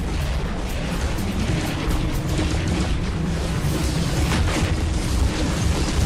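Robot weapons fire without pause in the War Robots video game, a dense, loud, unbroken roar of gunfire and explosions with booming low rumble and no gaps.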